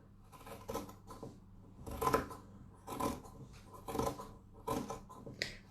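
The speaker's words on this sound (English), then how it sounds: "then I'm going to use the pinking shears. Now hopefully it will cut through all 3" Pinking shears chop through three stacked fabric layers for a hand warmer in a run of about five close, crunchy snips, each followed by a short pause and not quite even in rhythm.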